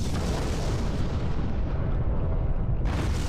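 A heavy orbital bombardment of a planet in the strategy game Master of Orion 3 roars as a dense, continuous barrage of rumbling blasts and explosions, loud and sustained throughout.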